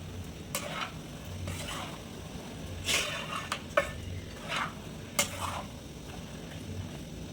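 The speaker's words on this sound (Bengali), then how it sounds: "এবার মিশিয়ে নেবো পুরো গাজরের মধ্যে এগুলো এক ভালো করে" Khoya kheer and mashed sandesh are stirred into cooked carrot in a pan for a Poush Sankranti pithe dish. A spoon scrapes in slow repeated strokes with soft clinks over a faint steady hiss, no talking.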